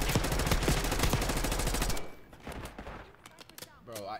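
Rapid automatic gunfire rattles loud and close for about two seconds in the video game Black Ops 6, then cuts off into quieter scattered game sounds and a few faint distant shots.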